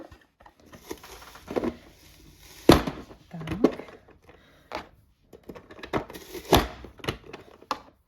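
Manual Press Compact vegetable cutter press dicing onion into small cubes, a series of sharp, separate clacks and thunks at uneven intervals with quieter rattling and clicking between them, close up.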